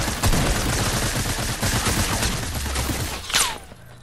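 Sniper rifle fire in a squad video game comes in dense, sustained volleys of overlapping shots, loud and close, with a sharper burst near the end.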